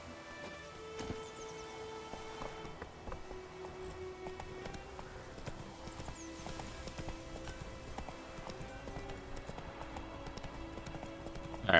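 Roach the horse from The Witcher 3 gallops with a steady, rhythmic clip-clop of hooves, close and continuous. A faint rain-like hiss sits under it, and no one talks.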